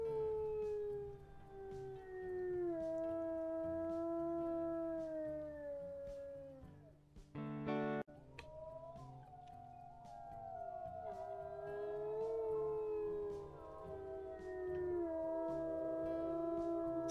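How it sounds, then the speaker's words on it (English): Several wolves in the video game WolfQuest howl in long, overlapping, wavering tones, with a brief loud burst midway before the chorus resumes, fairly distant and sustained throughout. "Looks like we do have Rescue Creek howling back at us."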